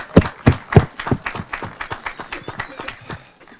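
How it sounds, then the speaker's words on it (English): An audience at a community event celebrating new affordable housing on the Southside claps for a couple of seconds, the sharp opening claps fading into a scattering of lighter applause. "So I want a round of applause for Curtis Davis."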